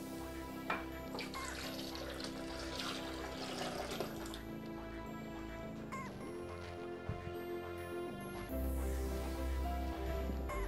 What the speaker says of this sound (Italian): Andiamo ad aggiungere l'acqua.